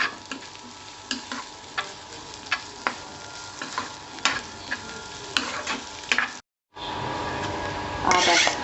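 Tomatoes and carrots stir-fried in a pan for Chinese chicken vegetable rice, a steady sizzle punctuated by regular spatula scrapes and clicks, close and moderately loud, briefly cutting out before resuming with louder frying.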